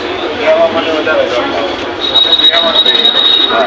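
A crowded Mumbai metro train running, with a steady rumble of motion and a thin high squeal, while passengers talk aboard.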